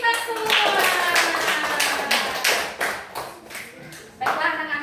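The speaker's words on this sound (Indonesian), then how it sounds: "Beri tepuk tangan untuk kita semua" Schoolchildren in a classroom clap their hands together in a lively burst of rapid, uneven claps that ripples on for several seconds, with a teacher's voice talking over it.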